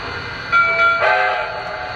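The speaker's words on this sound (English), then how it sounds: "To activate sequence control, you just hold down the AUX1 button for 3 seconds, and then it'll play a sound to let you know it's been activated." Lionel Vision Line 700E Hudson model train sounds its activation cue, a steady steam-whistle-like tone that swells and shifts pitch midway over a constant hiss, loud and close, lasting about two seconds with no talk.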